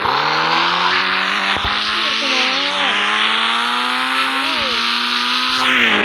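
A car in the mobile game Indian Bike Driving 3D drives with a loud, steady engine drone, revving as its tires squeal and skid in several drawn-out bursts.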